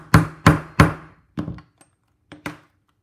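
Hammer blows setting a spike rivet and header on a leather hip-slung pouch: three loud, evenly spaced thuds, then a pause and a few lighter taps, close and without talk.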